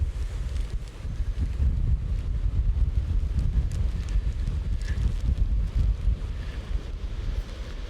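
Strong gusts from Storm Agnes batter the microphone while a DJI Mini 2 drone is flown outdoors, a loud, continuous low rumble of wind buffeting that never lets up.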